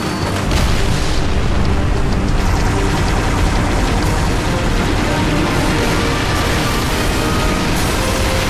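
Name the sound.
explosion detonating the pylon in a Halo video game cutscene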